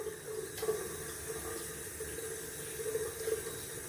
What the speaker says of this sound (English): I'm gonna add some cold water to the face, which will be refreshing in today's hot weather.